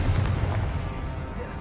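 A fire spell explodes in the Hogwarts Legacy video game, a loud, booming blast with a heavy low rumble that rolls on and slowly dies away.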